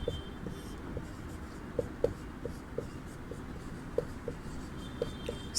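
Someone writes on a classroom board with steady scratchy strokes and small rhythmic taps, close by, over a low room hum, with no talking.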